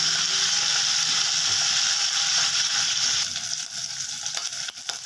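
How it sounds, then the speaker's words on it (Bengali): Potato pieces frying in a pan with salt and a little turmeric, giving a steady, loud, close sizzle that eases slightly partway through with a few faint clinks. "আলুগুলোকে একটু ভেজে নিচ্ছি।"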